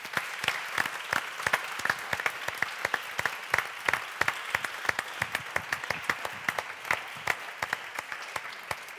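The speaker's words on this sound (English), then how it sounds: "could I ask you to do so as well with a big round of applause?" A large audience at the Cambridge Union gives a big round of applause for two speakers, dense steady clapping with sharp individual claps standing out, sustained and fairly loud throughout.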